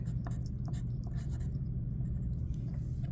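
A pen or pencil writes a name on a homework page, with faint scratchy strokes and light taps over a low steady room hum, no talk.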